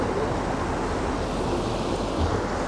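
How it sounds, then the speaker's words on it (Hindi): River water rushes steadily through Dhikala in Jim Corbett, a broad, continuous flowing wash with a strong current, close and loud throughout with no voices. "पानी का फ्लो थोड़ा सा ज़्यादा है"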